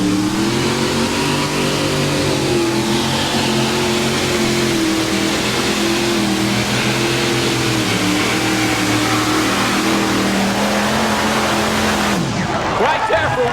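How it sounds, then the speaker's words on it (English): A four-engine Arias-powered pulling tractor, David Walsh's rig out of Wisconsin, roars loud and steady at a tractor pull, its layered engine drone wavering over thirteen seconds before cutting off near the end. "his world-famous 4-engine Arius-powered tractor out of Wisconsin"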